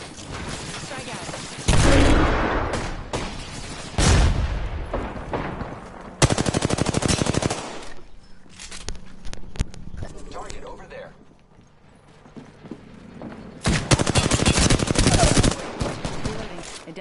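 Bursts of automatic machine-gun fire in a PS4 shooter, several loud sustained volleys separated by pauses, with in-game voice callouts and battle noise between them.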